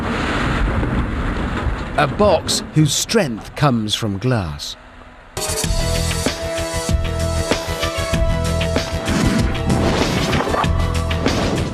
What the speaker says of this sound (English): the Federal Aviation Administration placed plastic explosive in a luggage container made of glare